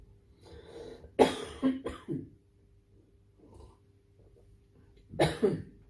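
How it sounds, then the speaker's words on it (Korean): During a Wednesday church sermon, one person coughs repeatedly in close bursts, a cluster of three or four coughs followed after a pause by another pair, with faint breathing in between. "계속 기침이 나요."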